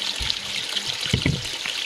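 Green pond water pours into a miniature pond reservoir in a short, splashy trickle, close and fairly loud with a few brief gurgles.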